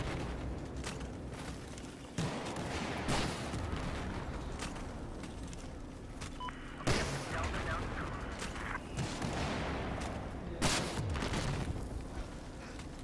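Gunfire and explosions in the video game Battlefield 4 form dense, loud bursts of shots and booms that run almost without a break, with heavy impacts throughout and a player talking over the action.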